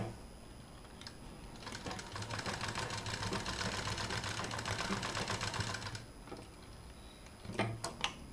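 A sewing machine stitching fabric pieces for a handmade toy cat whirs steadily for several seconds with a fast rattling needle rhythm, then slows into a few separate clicks and thumps, close by and without talking.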